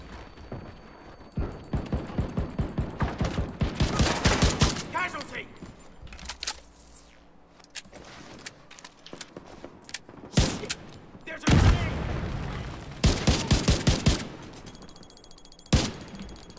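Rifle fire in The Division 2, rapid rhythmic bursts of sharp shots in several clusters, loud and close, with a voice talking in between.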